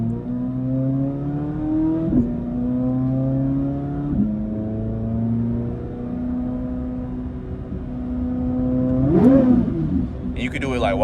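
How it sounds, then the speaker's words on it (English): A Corvette C8 Z06 engine is revved while the car is in neutral, loud rising and falling engine pitch with several shifts between engine speeds, then a sharp high-rpm blip near the end. "I'm gonna rev it for y'all."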